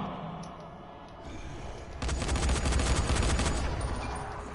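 Rapid video game gunfire erupts midway as a sustained burst of loud, closely spaced shots lasting about two seconds, after quieter ambient game sound.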